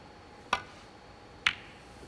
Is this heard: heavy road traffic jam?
no